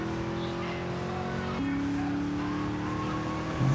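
A fast car in GTA Vice City accelerates with a steady engine whine that shifts pitch partway through and rises toward the end, heard under a voice.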